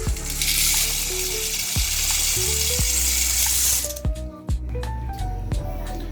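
Pot of Filipino sopas soup boiling on the stove, a bright hissing, sizzling bubble that runs loud before cutting to quieter clinks and knocks for the last couple of seconds.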